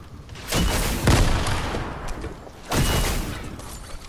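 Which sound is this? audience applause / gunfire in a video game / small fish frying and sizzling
gunfire in a video game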